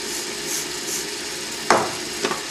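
A wood lathe spins a pen blank coated in thin CA finish, giving a steady, even whirring hum that runs throughout, with two sharp knocks near the end.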